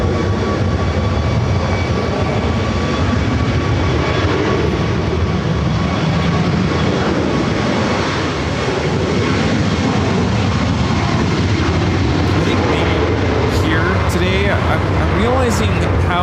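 An American Airlines Airbus A321neo arrives at LAX, its engine roar loud and sustained with a descending whine toward the end, while a voice talks over it.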